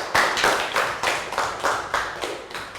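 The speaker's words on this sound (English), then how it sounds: "Round of applause." A class of Year 3 students gives a round of applause in a classroom, a brisk burst of many hands clapping together for about three seconds, fairly close and with no talking over it.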